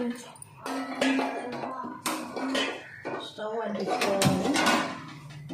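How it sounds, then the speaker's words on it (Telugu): A cooking pot is set on a stove for fish curry with metallic clanks and knocks of cookware up close, while a person talks throughout. "ఒక పాత్ర పెట్టుకోవాలి."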